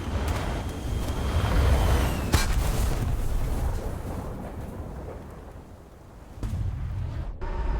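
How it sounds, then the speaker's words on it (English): A missile detonating in a Mirage 2000C combat flight simulator game, a broad low rumbling boom that swells and rolls over several seconds under steady jet engine noise, with a sharper crack partway through and another surge near the end. "That missile was fired so close that that guy basically had no chance to respond."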